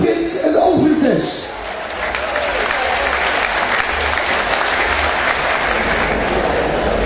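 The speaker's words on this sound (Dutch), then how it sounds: "Een groot applaus voor de oogprins en de oogprinses" A crowd at a harvest festival applauds the harvest prince and princess; a voice briefly speaks at the start, then loud, sustained clapping fills the rest, dense and steady.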